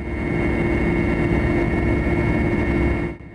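Helicopter in flight approaching an oil pumping station near Arkhara, a loud steady rotor and engine drone with a constant low throb that cuts off abruptly near the end.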